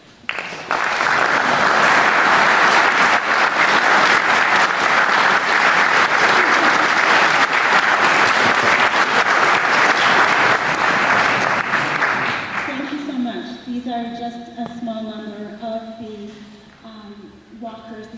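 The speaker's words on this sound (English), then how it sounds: "I would like everyone to thank them with their applause." Sustained applause from a meeting audience at a Kenwood neighborhood safety gathering in Minneapolis, greeting the neighborhood safety walkers; dense steady clapping for about twelve seconds, then fading as a speaker resumes talking.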